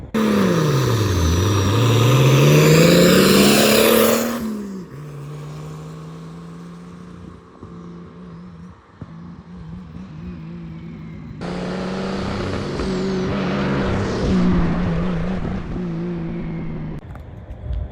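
A station wagon's engine roars as it races a scooter, first a loud, close revving surge, then a steadier drone that fades, then another strong acceleration pass. No one speaks.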